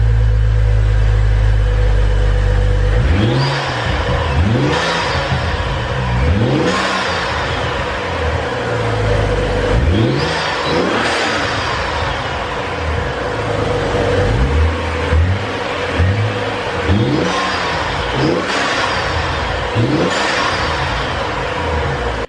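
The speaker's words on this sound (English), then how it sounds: "let's go ahead and give it a few revs and hear if there's a big difference between stock and with an intake" A BMW N55 engine with a Burger Tuning performance intake revs repeatedly in sharp bursts over a steady idle, each rev rising and falling, loud and close, with no talking.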